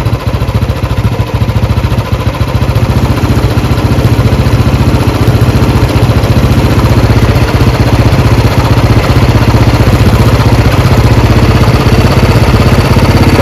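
A Royal Enfield Bullet 350 UCE single-cylinder motorcycle engine idles steadily and loudly up close with a rapid, even thump, its revs creeping slowly upward during carburettor tuning.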